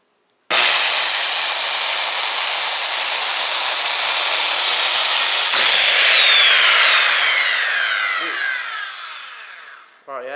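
A power saw rips through a pallet wood board held against a fence. The cut is very loud, close and continuous for nearly ten seconds, then the saw winds down and ends with a jolt as the board binds and kicks back.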